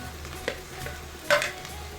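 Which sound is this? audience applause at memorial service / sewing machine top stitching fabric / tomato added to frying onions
tomato added to frying onions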